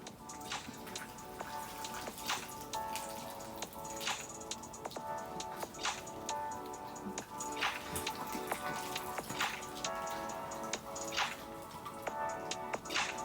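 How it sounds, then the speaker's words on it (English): Water soaks the soil of a potted snake plant, sending up a steady patter of drips and trickles, close and fairly quiet, with no talking. "so I'm just gonna go ahead and soak this soil"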